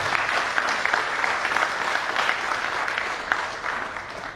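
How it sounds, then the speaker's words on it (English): Audience clapping steadily at an alumni CEO conclave, a dense, even wash of many hands lasting throughout with no talk over it. "So clap for all of us"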